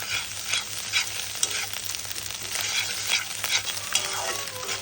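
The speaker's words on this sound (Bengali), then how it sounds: "ডিমগুলো সুন্দরভাবে ভেজে নিচ্ছি আমি।" Eggs frying in a pan crackle and sizzle continuously, with soft scraping and stirring sounds over the steady hiss and no voices.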